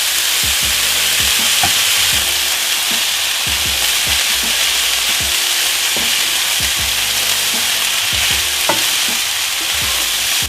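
Rice fries in a pan with soy sauce just added, sizzling steadily while a utensil scrapes and stirs in repeated irregular strokes, close and constant throughout with no talking.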